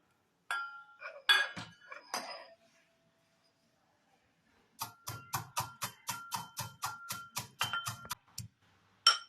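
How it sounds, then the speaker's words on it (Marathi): Coriander seeds being partly crushed in a mortar and pestle for Punjabi samosa filling: about a dozen close, sharp, evenly spaced pounding strikes, preceded by some softer kitchen clatter, with no talk. "धणे आपण आता खलबत्त्यात थोडेसे अर्धवट कांडून घेऊया"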